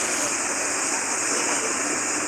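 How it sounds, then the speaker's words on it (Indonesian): Water overflowing from a river that flows down from the Marapi crater, heard as a steady, loud, broadband rushing roar like a waterfall, continuous and unbroken with no voices. "kita mengatasi meluapnya air dari sungai yang berasal dari Kawah Marapi di sana"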